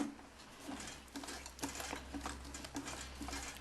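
Sewing machine running along the seam of an unlined skirt, a quiet steady motor hum with faint rhythmic ticks from the needle, low and continuous with small bumps in level.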